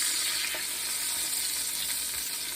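Butter melting in a hot pan while making chicken marsala gives a continuous, even sizzle, close and fairly loud, with no talking.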